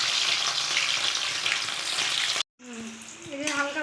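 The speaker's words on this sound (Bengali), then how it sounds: "পনিরটা, হালকা ভাজবো।" Paneer fries lightly in a pan with a dense, steady sizzle that cuts out abruptly, then resumes with clinks and scraping tones as the frying continues.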